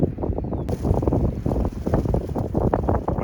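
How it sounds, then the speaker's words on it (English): Strong wind buffeting an outdoor microphone at an old farmhouse site, a loud continuous rumbling roar with gusty surges throughout. "Man, this wind is terrible."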